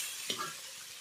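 Kohlrabi, potato and spring onion frying in a pan, a steady close hiss of oil with a brief stirring scrape, heard alone for about a second.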